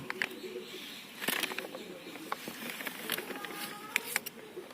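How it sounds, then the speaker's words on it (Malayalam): Pigeons being trained coo and call softly in short scattered bursts amid light rustling and faint background noise, with a few sharper chirps standing out. "പ്രാവ് പറക്കുന്നുണ്ട്."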